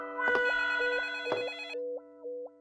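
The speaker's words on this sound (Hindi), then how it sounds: "दूसरा फोन बज रहा है।" A telephone rings in two bright electronic bursts, then settles into a repeating warbling ring tone, near and clear with no voices over it.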